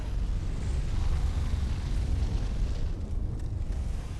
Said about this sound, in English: Looking like a big old werewolf. But then it catches on fire.